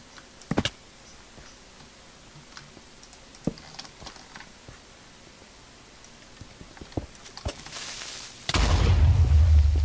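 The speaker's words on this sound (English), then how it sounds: "I'm not actually that sad about that explosion." Scattered clicks and taps, then a sudden loud, sustained blast of noise from a Minecraft explosion near the end, roaring on until the clip stops.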